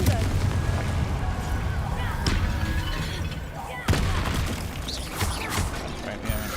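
Repeated Confringo explosive spell blasts from Hogwarts Legacy, sharp bursts with cracking impacts over a dense, busy combat soundscape, including a strong hit near the middle, while a player speaks over the fighting.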